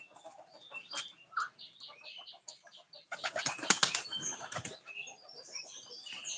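Pigeons land with a sudden burst of flapping wings, close and busy, after a stretch of softer scattered chirps and small movements.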